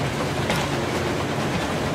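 A moving train in the video game Metro Exodus rumbles steadily with a dense, continuous roar and faint rattling, loud and unbroken throughout.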